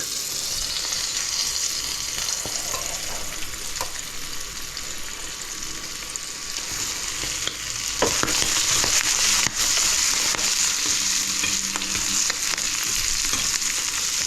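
Pieces of liver dusted in flour fry in a pan with a loud, continuous sizzle. Occasional stirring scrapes and crackles sit close on top, with no talking.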